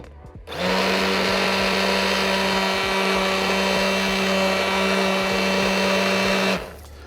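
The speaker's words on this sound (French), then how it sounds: "On va mélanger. On va mixer." A blender whirs steadily for about six seconds, mixing a mango and passion fruit entremets mixture; the motor starts abruptly, holds a loud even drone, then cuts off.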